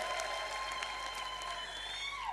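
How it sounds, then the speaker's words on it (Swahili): An audience at a UDA political party address applauds, a dense, steady patter of many hands clapping throughout, with no voices over it. "Pigeni makofi jameni."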